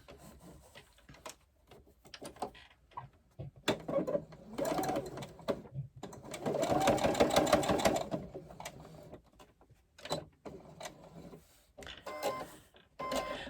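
A domestic sewing machine stitches around the edges of fabric in several rapid whirring bursts of varying length, separated by pauses and light handling noises, close and clear.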